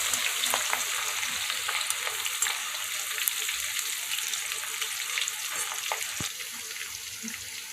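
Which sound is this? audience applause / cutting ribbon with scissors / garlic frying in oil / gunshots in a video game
garlic frying in oil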